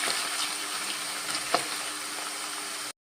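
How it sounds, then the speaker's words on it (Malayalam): Steady, dense sizzling of ginger frying in hot oil, with a faint scrape of stirring partway through before it cuts off. "ഇത് നല്ലോണം ഇതുപോലെ വറുത്ത് കോരിയെടുക്കാം"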